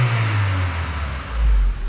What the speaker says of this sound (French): sans le résonateur, ça change un peu le bruit de l'admission forcément